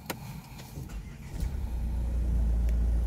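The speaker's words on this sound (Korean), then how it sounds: "엔진 소리 정말 기똥찹니다" A Renault Samsung QM6 engine turns over and catches, then settles into a steady low rumble that builds slightly as it runs, close by.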